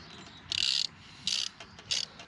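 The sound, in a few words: ratchet wrench tightening motorcycle oil filter cover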